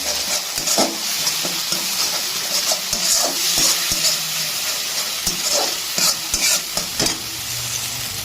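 Black mustard paste ground with green chillies being stirred into a sizzling Bengali rui fish curry, with steady frying hiss and repeated scraping stir strokes close by, no talking.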